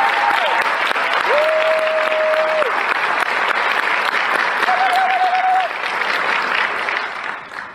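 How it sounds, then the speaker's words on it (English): Applause from the audience at a book launch for The Skin We're In, a steady, dense wash of clapping that fills the room and fades toward the end, with a few faint tonal beeps over it. "Please give him a big round of applause."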